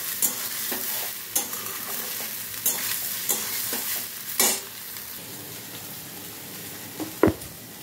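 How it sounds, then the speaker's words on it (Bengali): Soybean chunks fry until reddish in a pan, stirred with a spatula that scrapes and taps at intervals over a soft continuous sizzle, one sharp knock near the end. "সোয়াবিনটাকে হালকা করে লাল লাল করে ভেজে তুলব।"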